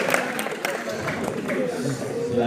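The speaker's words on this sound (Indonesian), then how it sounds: "Tepuk tangan untuk Yoga dan Dimas." An audience at a Ramadan religious lecture claps, a moderate scattered round of applause mixed with crowd noise and some voices talking over it.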